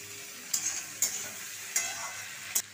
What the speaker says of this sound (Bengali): কুদরিগুলোকে নাড়তে নাড়তেই আমি এবার এর মধ্যে দিয়ে দেবো পেঁয়াজ কুচি করে কাটা